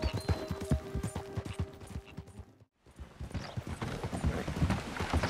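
Horse hooves clip-clop in a quick, steady rhythm as a rider travels in Red Dead Redemption 2, loud and close, with a brief pause midway before the gait resumes.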